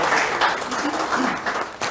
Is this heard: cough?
no